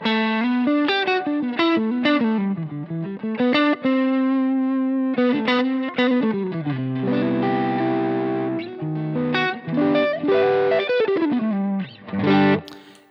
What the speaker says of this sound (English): So you hear that drive come in, but you can also hear the clean.